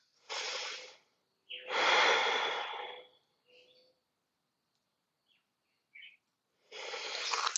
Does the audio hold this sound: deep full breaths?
yes